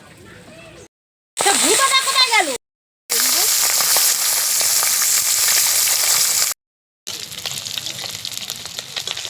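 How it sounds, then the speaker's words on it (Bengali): Fish heads coated in turmeric frying in oil, a loud close hiss and crackle in several bursts separated by brief silences, with a voice talking over the start and some of the frying. "পরিমাণ মতন মাছের মাথাটা ভাজার জন্য"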